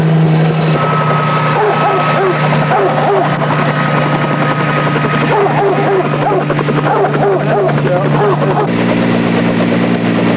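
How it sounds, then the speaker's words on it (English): A helicopter's loud, steady engine drone and rotor thump dominate during a rescue sling practice flight, with a voice speaking over the noise. "today she gets her first practice flight in a helicopter sling"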